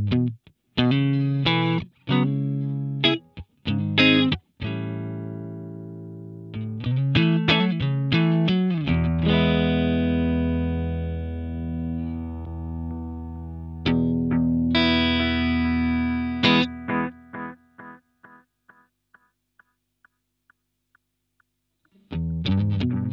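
An electric guitar plays through a JAM Pedals Delay Llama Xtreme analog delay, with distorted riffs and sustained chords whose repeats trail off into fading echoes, loud and close with no talk.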